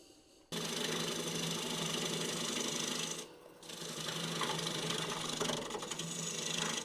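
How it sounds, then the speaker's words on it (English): A bowl gouge cuts into a large ash bowl spinning on a wood lathe, a steady loud rasping shear that pauses briefly and then resumes with continuous chattering texture. "So we're just going to come straight in and nibble away that wood."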